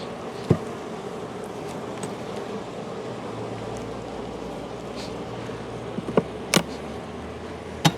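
Honeybees hum as a steady, close swarm drone around an opened hive, with a few sharp clicks and knocks over the buzzing.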